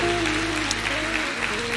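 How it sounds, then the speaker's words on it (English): Church congregation clapping hands together in worship, a dense continuous burst of applause over a held sustained musical tone, loud and close, with faint voices beneath. "let's worship the Lord with a hand clap"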